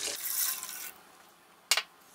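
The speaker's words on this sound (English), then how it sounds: "Next, I'm gonna go ahead and add in my water" Water poured into a soup pot of softened onions and seasoning for chicken pot pie soup: a steady, fairly loud splashing rush for about a second, then quiet, with a short clatter near the end.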